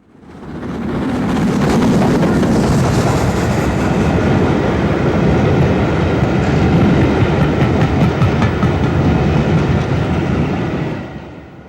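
A passing train rumbles loudly for about ten seconds, a broad steady roar with faint rhythmic clatter, swelling in and fading out at the end, no voices. The Flying Scotsman steam locomotive on the East Coast Main Line.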